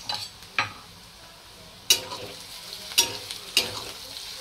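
Onions fry in oil in a pan for paneer bhurji, a soft, close sizzle punctuated by four distinct spatula scrapes and clinks against the pan.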